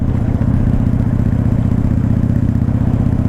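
A Honda Shadow 600 motorcycle engine idles with a steady, loud low rumble and even rapid pulsing, close by and with no talk over it.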